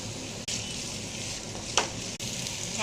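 Finely diced potatoes sizzle in hot oil with onion, curry leaves and mustard seeds, a steady close hiss broken by a stirring scrape or two.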